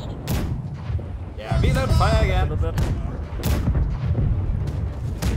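Ship cannons fire in the naval video game Blackwake, several heavy booms rolling in succession while players shout over them.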